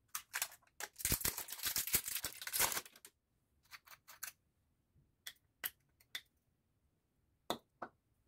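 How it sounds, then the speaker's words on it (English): Plastic wrapper being peeled off a Captain Nemo's Blend 47 aftershave bottle, a close, quiet burst of crinkling and tearing, then scattered sharp crackles and snaps at intervals in an otherwise silent room. "It's still in the wrapper, so we're gonna unwrap it."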